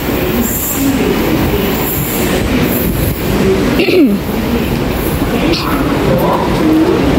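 A train rolls into a station platform with a loud, steady rumble of wheels and brief screeching squeals, the noise filling the whole stretch while someone speaks over it.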